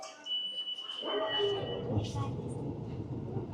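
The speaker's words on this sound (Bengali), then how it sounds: "ট্রেন এসে গেছে" Tokyo Ginza Line subway train arriving at a platform, a rising rumble after an electronic tone, the roar swelling and holding fairly quietly with voices underneath.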